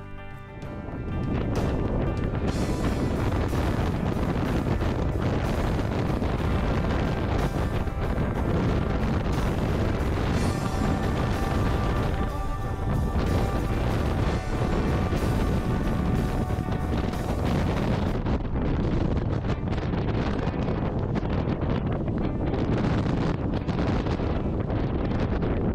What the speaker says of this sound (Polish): Na Śnieżnych Kotłach wiatr staje się bardzo mocny.